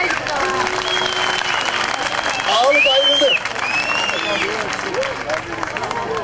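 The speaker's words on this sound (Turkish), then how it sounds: "Hadi bir alkış ya." A crowd applauds at a social and cultural event auction while voices talk and call out over the clapping, with a steady roar of noise throughout.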